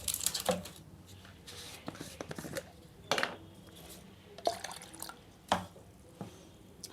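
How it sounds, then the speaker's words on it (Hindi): Water poured into a plastic shaker bottle for mixing whey protein, heard as a string of short splashy bursts and drips at close range, with quiet gaps between them. "हाफ शेकर ले लिया है पानी"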